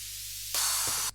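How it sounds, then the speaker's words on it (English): A hissing burst of white noise swells, then jumps louder as a reversed crash cymbal rises and cuts off abruptly, all in about a second, as an 80s synthwave production effect. "Just a mixture of a crash and some white noise. And you can hear I've just reversed one of them."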